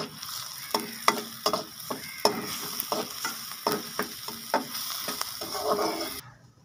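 Garlic paste and finely chopped green chillies frying in a pan, with a steady sizzle under repeated scraping stirs of a spoon about every half second, close and moderately loud, no voices.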